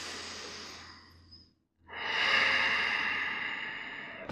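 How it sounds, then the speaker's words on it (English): Slow, steady breathing in and out through the nose during a calm yoga practice: a long soft airy exhale, a brief silent pause, then a fuller rushing inhale, close and alone with no talk. "breathe in through the nose and out through the nose"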